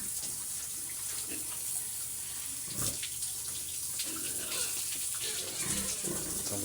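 Water gushes steadily from a hose while a pet pig is bathed, a soft continuous spray close by with small splashes and bumps.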